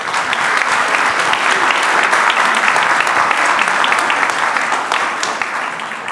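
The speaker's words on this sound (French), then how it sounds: "ça valait le coup de commencer par applaudir" Dense, loud audience applause fills a brunch event at a Lyon school, a continuous wash of many hands clapping that holds steady and eases slightly toward the end.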